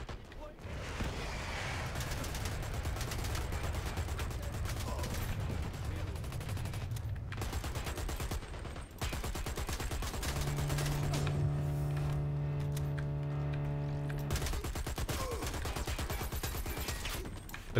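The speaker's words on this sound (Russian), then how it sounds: "Зажимом, конечно, не самая лучшая идея стрелять, но иногда приходится." Dense bursts of gunfire fill the game Dirty Bomb, with rapid automatic shots running almost without a break, loud, alongside a steady droning tone partway through.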